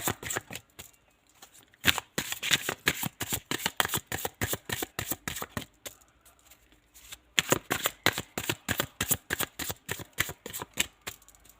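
Tarot cards being shuffled by hand in rapid, crisp riffling bursts, with short pauses between rounds; close and fairly quiet, with no talk over it.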